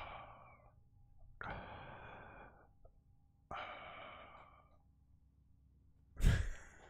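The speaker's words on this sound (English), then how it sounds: "I heard the breathing in the game though." Breathing in the video game Layers of Fear 2: three slow, heavy, airy breaths or sighs spaced a couple of seconds apart, close and quiet, ending with a sharper, louder gasping exhale.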